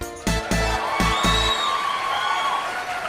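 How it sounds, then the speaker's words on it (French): A game show studio audience breaks into cheering and whoops after a few sharp bursts at the start, the crowd noise holding steady and loud to the end. "On les applaudit bien fort!"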